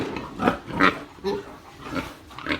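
Several close, grunting oinks from recently weaned young pigs being fed on a farm, coming in short, irregular bursts about every half second, with no talk.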